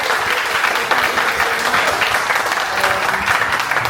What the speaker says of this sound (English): Can we give a good round of applause to the bar staff?